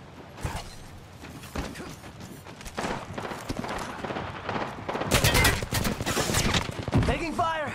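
Gunfire in Apex Legends: bursts of rapid shots and scattered single cracks over game sounds, growing denser and louder in the later seconds, with voices heard intermittently.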